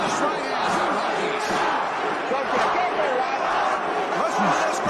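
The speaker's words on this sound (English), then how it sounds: "Listen to this crowd" A boxing match crowd from a Rocky film roars and cheers continuously during the fight, a dense, loud wash of shouting voices with rising yells, with a commentator's voice audible over it.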